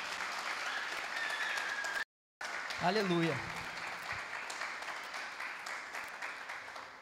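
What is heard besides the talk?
congregation applause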